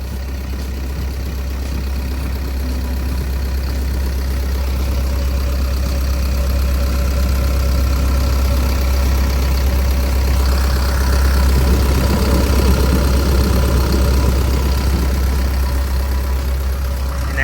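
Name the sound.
excavator diesel engine idling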